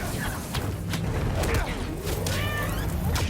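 A cat meows a few times in Marvel's Spider-Man 2, short rising and falling calls heard over busy game noise with swooshes and light thumps.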